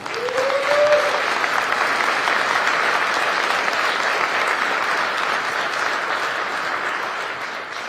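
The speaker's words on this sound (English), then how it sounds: "Everybody give her a round of applause there." A large crowd of supporters at a governor's election night event applauds steadily for several seconds, a full, even roar of clapping that holds without a break.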